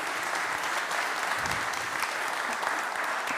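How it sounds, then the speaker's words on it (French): An audience at a French conference on the building sector gives a dense, continuous round of applause, loud and sustained from start to finish with no talking over it. "vous pouvez applaudir Monsieur Bazin d'avoir été avec nous"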